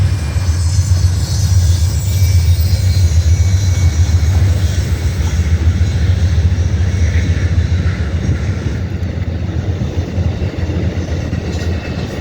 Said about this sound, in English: Next up is the Amtrak,